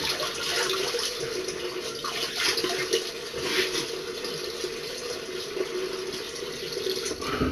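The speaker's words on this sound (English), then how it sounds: "I'm washing my face while I'm talking to you guys" Tap water pours steadily into a bathroom sink during face washing, a continuous close hiss and splash with small shifts as hands move through the stream.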